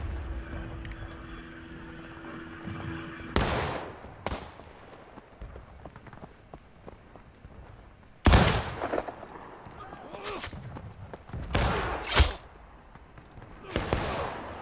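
Scattered musket shots in the multiplayer Civil War game War of Rights, sharp loud cracks at irregular intervals, some near and some farther off, over a low ambient rumble.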